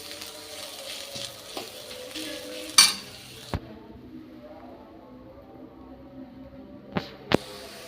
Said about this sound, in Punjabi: ਆਪਾਂ ਜੀ ਪਿਆਜ਼ਾਂ ਨੂੰ ਚੰਗੀ ਤਰ੍ਹਾਂ ਭੁੰਨ ਲਾਂਗੇ